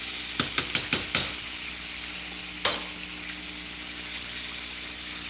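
Chicken drumsticks fry in a pan with a soft constant sizzle, broken by a quick run of five sharp clinks early on and one more clink a little later, close by and with no talk.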